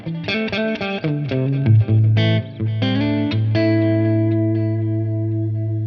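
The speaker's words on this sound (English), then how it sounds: "set it to ping pong, so that if we're in stereo, we're gonna hear that delay bounce between the left and right sides" An electric guitar plays through a ToneX ONE tape delay set to ping pong mode, picked notes and chords trailed by distinct repeating echoes that ring on into a sustained fading chord.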